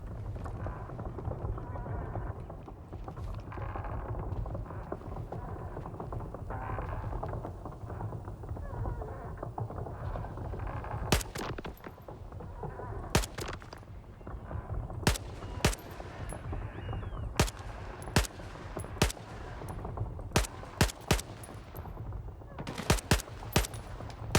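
Gunfire in Stalker 2: single-fire shots ring out one after another at irregular intervals over a low background hum, getting more frequent toward the end.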